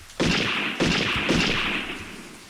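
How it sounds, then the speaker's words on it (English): Three sharp, loud video game firecracker bangs burst in quick succession, each trailing off into a reverberant rumble. "Sounds like exploding firecrackers echoed from all sides."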